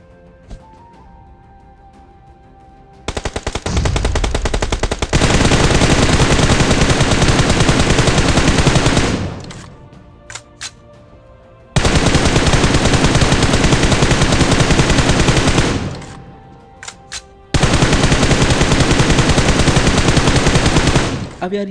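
Battlegrounds Mobile India firefight through smoke: loud, close automatic gunfire in long sustained bursts, broken by short pauses and a few isolated single shots.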